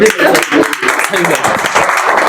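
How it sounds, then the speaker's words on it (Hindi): An audience claps at a business meeting, with a dense, steady patter of applause running throughout and a voice talking over it. "हम मौका दे रहे हैं ताली बजाने के लिए, तो कितने लोग बजाने के लिए तैयार हैं?"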